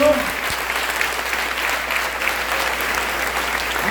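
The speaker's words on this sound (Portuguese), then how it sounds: "Você pode aplaudir o Senhor?" Church congregation applauding the Lord during a Lord's Supper evening service, steady dense clapping from a crowd filling the whole stretch at an even loudness, with faint voices mixed in.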